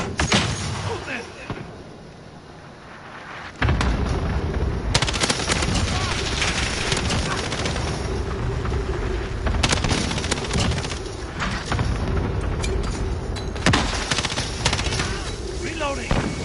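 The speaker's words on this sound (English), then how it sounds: "cluster strike incoming. Take cover." A rapid, dense barrage of cluster strike explosions and gunfire erupts loudly in a Call of Duty team deathmatch, with booms and bursts overlapping continuously after a brief quieter lull.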